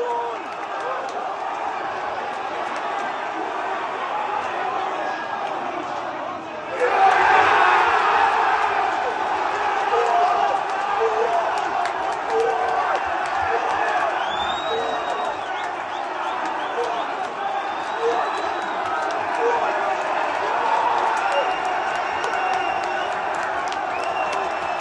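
A crowd at a Cheltenham fan zone in Camden cheers through a Gold Cup finish, a steady broad roar that swells louder partway through and holds, with scattered shouts in the mass of voices.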